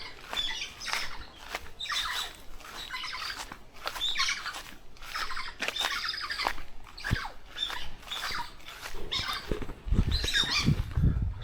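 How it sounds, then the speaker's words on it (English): Jungle birds on Ometepe, Nicaragua squawk and chatter in repeated sharp calls across a steady outdoor backdrop, with a few louder close bursts near the end and no talking. "Some more birds."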